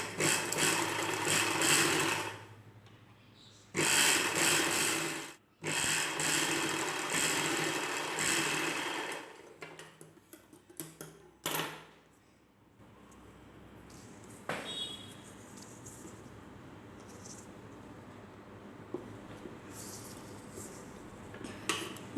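A sewing machine stitches folded extra cloth onto a collar's buckram piece, with loud sustained whirring runs broken by pauses, then quieter intermittent clicks and handling.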